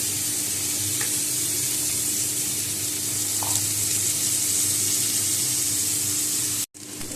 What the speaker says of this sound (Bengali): ঘিয়ের সাথে ভালোভাবে একবার ভেজে নিচ্ছি।